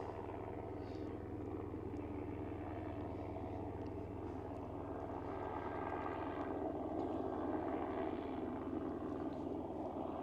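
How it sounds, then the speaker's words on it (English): Helicopters flying over a volcano eruption site in Iceland, a steady distant drone of rotor and engine noise that holds throughout and swells slightly toward the end. "the choppers, they just kill the experience"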